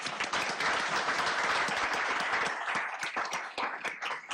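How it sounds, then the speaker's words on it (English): Applause at a board of commissioners' meeting for a newly appointed officer, a brief dense round of clapping that thins out toward the end. "Applause for Walter."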